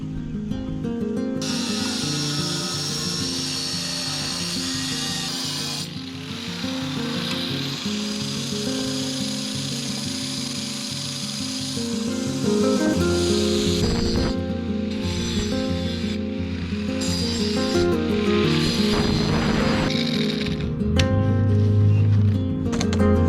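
A power tool cuts through super strut metal channel during a school bus water tank install, making a harsh, hissing, grinding roar that runs steadily and grows louder in the second half.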